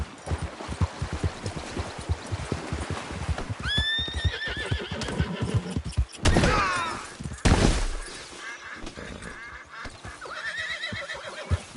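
A horse in Red Dead Redemption 2 neighs and whinnies loudly over steady clip-clop hoofbeats, with a burst of louder rushing noise in the middle of the ride.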